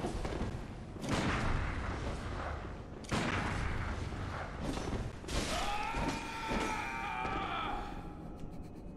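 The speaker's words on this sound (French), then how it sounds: "C'était ton dernier coup de canon, mec." Heavy booming cannon blasts in the video game Bloodborne strike repeatedly, each with a sharp onset and rumbling decay, followed by a rising whistling tone amid continuous chaotic noise.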